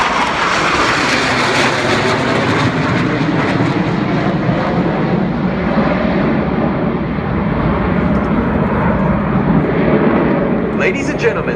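Blue Angels jet aircraft flying aerobatic manoeuvres at the NAS Oceana air show make a loud, continuous broadband roar that holds steady for the whole stretch, with an announcer's voice partly buried beneath the engine noise.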